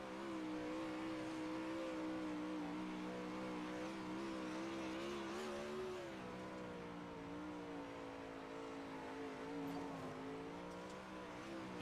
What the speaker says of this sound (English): Take a ride on board with them in a sprint car.